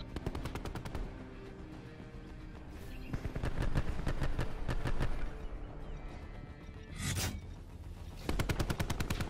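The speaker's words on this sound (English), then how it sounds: "Stop panic firing" A teammate panic-fires in Call of Duty Black Ops 4, sending out long rapid bursts of automatic fire with brief pauses and a whoosh partway through. The firing is steady, close and dense.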